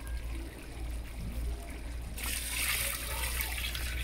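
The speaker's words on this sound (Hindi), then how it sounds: "अब हम डालेंगे इसमें पानी।" Water is poured into a pot of potato beef curry, aloo gosht, starting as a quiet simmer and then a loud, close, steady gushing pour about halfway through.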